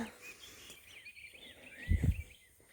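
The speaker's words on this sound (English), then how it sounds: "don't know if you can hear all the birds out here." Birds chirp faintly in the open countryside of rural Georgia, thin high calls scattered over a quiet outdoor background, with a brief low rustle or thump near the end.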